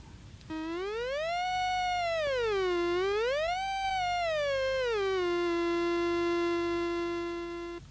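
A buzzy, harmonically rich square-wave tone sweeps up and down in pitch a couple of times, then holds a steady low note until it ends.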